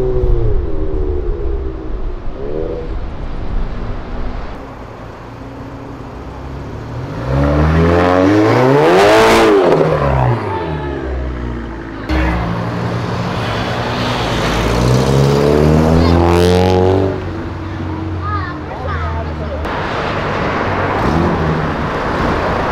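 Cars with loud engines accelerate away one after another, revving hard with rising and falling engine tones, close and loud, with no talk.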